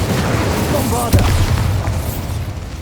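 A Bombarda spell explosion in a Harry Potter game lands as a single short boom under a steady busy game background, with a voice speaking around it.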